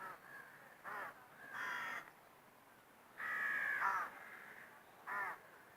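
Crows at Fota Wildlife Park give several loud, harsh caws in separate bursts of about a second each, fairly close, with quiet gaps between them and no talking.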